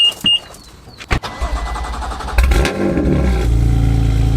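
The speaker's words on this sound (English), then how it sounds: "Check out this cold start shot from earlier." A BMW M4 cold start, close and loud: a few clicks, the starter cranking, then the engine catches with a sharp rev flare and settles into a rumbling, throaty idle.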